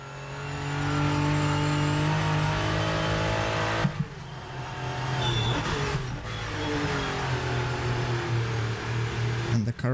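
A Porsche 963 race car roars through gears in a racing game on a German circuit. A loud, sustained engine note climbs, drops sharply at shifts, then builds again, with tyre noise in places.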